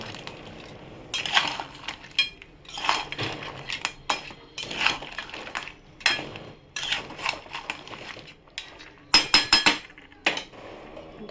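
A utensil scrapes and clanks against a pan while crab curry with garam masala is stirred, close and repeated in irregular bursts, ending in a cluster of sharper metallic clinks.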